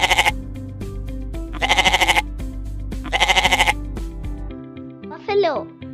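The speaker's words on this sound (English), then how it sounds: "Goat" A goat bleats in three loud, wavering bursts of rapid pulses over a steady music backing, and a child-like voice speaks briefly near the end.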